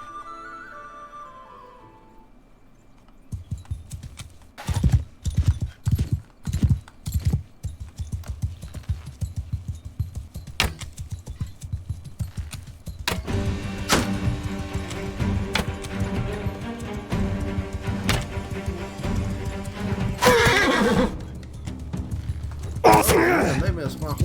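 In Mount and Blade II: Bannerlord, a horse's hooves clop and gallop in a fast rhythm under battle noise, with groaning and heavy clatter building louder toward the end, and someone talking over parts of it.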